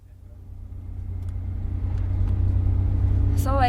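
A car engine rumbles low and builds gradually as the vehicle pulls away, growing louder toward the end, with a brief higher sound at the very close.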